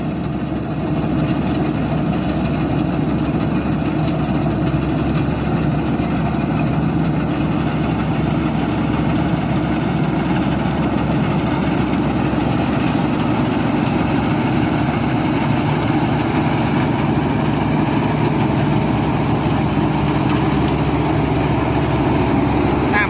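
A walking tractor engine runs steadily through a sticky rice harvest, a loud, close, continuous idling drone with a dense low rumble and vibration that holds unchanged from start to finish.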